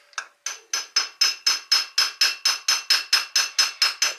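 Steady, rapid metallic taps strike an engine part from a 1983 Kawasaki 125 three-wheeler, about four per second. The sharp, close clicks run evenly with nothing else heard.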